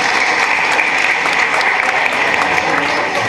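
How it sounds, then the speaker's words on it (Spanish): A group claps together after a guided massage exercise in a reflection circle, a loud, dense, continuous burst of applause filling the room throughout. "Nos damos un aplauso"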